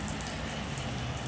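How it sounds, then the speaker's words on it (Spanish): Steady rain falls outdoors at Christmastime, a dense, continuous patter of drops hitting surfaces at moderate loudness with no voices. "Mendiga lluvia, como la odio."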